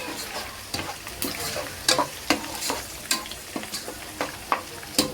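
Chicken fries in a pan for Rayalaseema-style okra curry, a constant sizzle broken by regular sharp scrapes and taps of a stirring spoon, close and clear with no voices.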